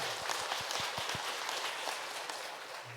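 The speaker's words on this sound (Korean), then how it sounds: "우리 박수 보내드리겠습니다" A church congregation applauds with a steady, dense patter of clapping, moderately loud and sustained throughout.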